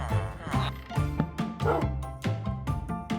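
A dog in the Minecraft video game gives a run of short, regular barks and yips, about eight in quick succession, loud and close with no talk.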